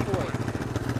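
An engine idles close by in a steady, rough mid-low rumble with fast pulsing, with some voice mixed in.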